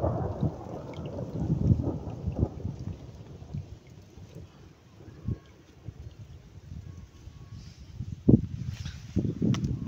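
Thunder rumbles and rain falls outdoors near a home at the start of a storm, with broad low rumbling throughout and a few sharper cracks near the end; no talking.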